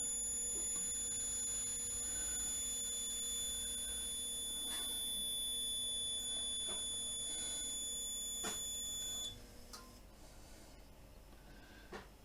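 A water heater leak detector alarm sounds as a continuous high-pitched electronic buzz, steady and fairly faint for about nine seconds before it stops, followed by quiet handling noises.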